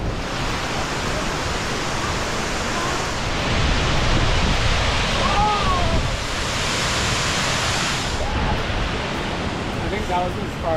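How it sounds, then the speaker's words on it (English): Narada Falls at Mount Rainier roars as a steady broadband rush of falling water, loud and unbroken throughout, with faint wind buffeting and a brief high voice calling partway through. "Our next stop is Narada Falls"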